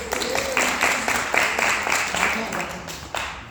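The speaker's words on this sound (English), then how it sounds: "So please give them a round of applause." Audience applause at a book tour event, scattered clapping of moderate loudness with individual claps standing out from the room's murmur.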